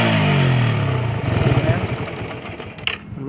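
Carbureted Raider 150 motorcycle engine revving hard, a loud steady high-rpm drone that drops and settles into a rougher, pulsing idle near the end.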